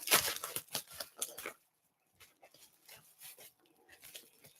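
Packaging is ripped open by hand after an unboxing, giving a few close, sharp rips and tearing bursts at first, then softer rustling and crinkling after a short pause.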